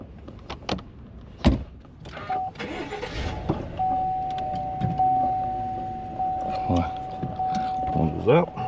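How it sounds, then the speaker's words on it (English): A car's electric power windows whir upward in a steady motorized hum lasting several seconds, with a person talking nearby and some clicks and handling noise inside the vehicle. "I'm gonna just let my windows up."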